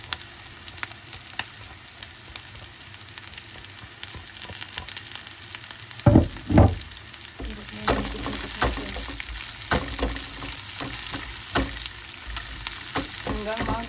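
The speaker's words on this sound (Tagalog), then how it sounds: "Hanggang mag-golden brown yung bawang natin mga kaibigan" Garlic fries with onion in a pan, browning for squid adobo, in a continuous sizzle. Two heavy knocks come around the middle, followed by repeated scraping and stirring strokes that keep the crackle uneven.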